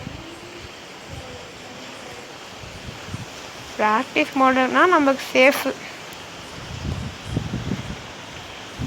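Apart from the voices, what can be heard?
strong wind blowing outdoors at night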